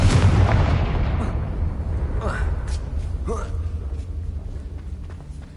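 A Confringo blasting curse explodes in the Hogwarts Legacy video game: a loud boom at the start rolls into a fading rumble over several seconds, with brief whooshing effects and faint voices.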